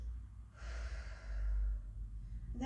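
Slow, audible exhale through the mouth during restorative yoga breathing, a soft breathy rush lasting about a second, close and quiet with no talk.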